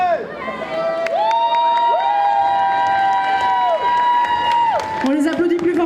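A crowd at a cosplay contest cheers and claps for the cosplayers, with whoops and shouts under a loud, sustained tone of a voice or horn, and people talking over the noise.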